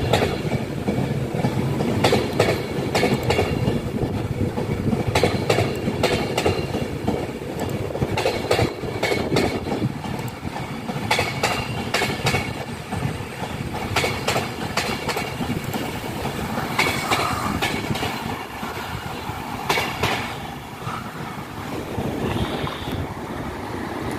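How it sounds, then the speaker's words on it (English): Avanti West Coast unit 390136, running from Glasgow Central to London Euston, rushes past with a loud, continuous rumbling roar and rhythmic wheel clatter that holds steady for the whole stretch, easing off slightly near the end. "passing now is the delayed Avanti West Coast 390136, only delayed by a minute"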